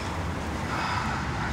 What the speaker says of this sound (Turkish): Başta bir rüzgar esiyor ama daha sonra alışıyorsun.